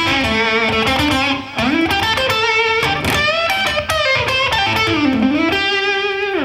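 An electric guitar with a distorted tone plays a run through the A blues pentatonic scale, using bends and finger vibrato. The notes are bright and sustained, with pitch glides and slides, played loud and alone with no voice over them.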